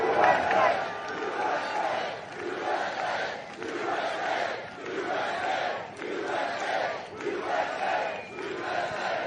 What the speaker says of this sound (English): it's an honor to have this crowd